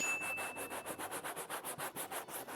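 A brush scrubs crumbling old headliner foam off the bare metal of a car roof in fast side-to-side strokes, giving a rhythmic, close, raspy scraping of about a dozen even strokes with no talking.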